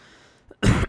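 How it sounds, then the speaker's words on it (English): A single loud, close cough straight into a microphone, a sharp harsh burst after a quiet moment, preceded by a faint short throat sound. "Sorry, just coughed in your ear"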